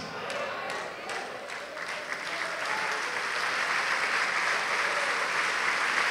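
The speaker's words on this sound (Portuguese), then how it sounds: "Diga enquanto você aplaude." A congregation at a televised evangelical service applauds. A few sharp claps open into a swelling, sustained round of clapping that grows fuller and louder, and faint voices sit underneath.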